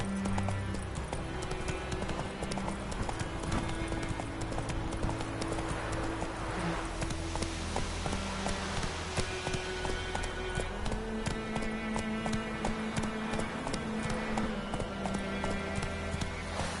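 A horse gallops across terrain in The Witcher 3, rapid rhythmic hoofbeats pounding steadily and close throughout, set against a continuous ambient music bed.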